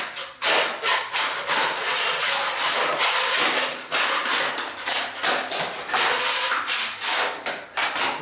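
Vinyl floor tiles being loosened and pried up, giving loud, close scraping and cracking bursts in quick, uneven succession with short pauses between them.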